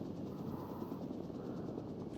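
Faint helicopter in the Global Mobilization video game, a low, steady rotor drone with a soft rhythmic chop, distant and continuous, with no talk over it.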